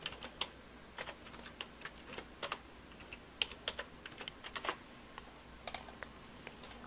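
Quick, irregular keystrokes on a computer keyboard as code is entered in Visual Basic, light close clicks in short bursts with brief pauses between them, no voices.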